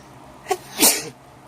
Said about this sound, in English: Sorry to sneeze.